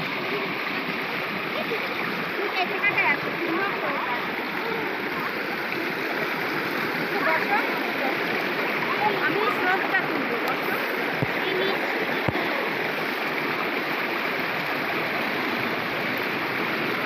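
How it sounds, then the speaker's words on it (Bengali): A waterfall-fed hill stream at Bichanakandi, Sylhet rushes over rocks in a loud, continuous broadband roar, with people talking faintly beneath it. "এই যে পানি প্রবাহিত হচ্ছে"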